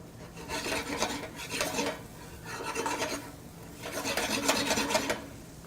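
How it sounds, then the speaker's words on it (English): A utensil stirs scrambled eggs in a pan, giving repeated scraping, rasping strokes in several rhythmic bursts with short pauses, close and moderately quiet, with no talk. "making sure that I stir so that I don't burn"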